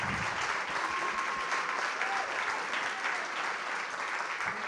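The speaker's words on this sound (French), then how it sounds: "Donc, ils méritent une grande main d'applaudissements aussi." An audience at a fashion marketing final project event claps in sustained, dense applause, loud and close throughout, with a faint voice briefly underneath.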